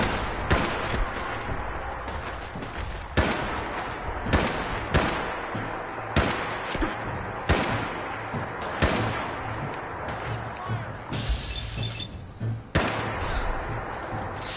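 Rapid, dense gunfire from the video game CoA: Terminal fills the clip, with heavy repeated shots in quick bursts over constant background game noise.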